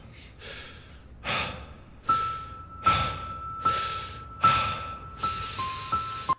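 A man breathing in a song recording: about seven loud, rhythmic breaths, each a sharp intake and release, roughly every 0.8 seconds, set over a faint sustained musical tone.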